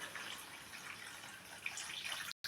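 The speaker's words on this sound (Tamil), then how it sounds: "இப்போது தண்ணி சேர்த்துப்போம்." Steady rush of water streaming into a pot, a continuous splashing hiss that runs without pause for a couple of seconds before cutting off.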